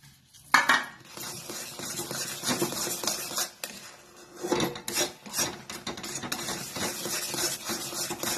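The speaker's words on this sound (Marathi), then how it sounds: "अजून थोडं हलवावं लागणार मला, घट्ट व्हायचं अजून." A thick sweet mithai mixture is scraped and stirred in a ghee-greased pan with a utensil, giving continuous rasping, rubbing strokes with occasional metallic clinks, fairly close and steady throughout, with no voices.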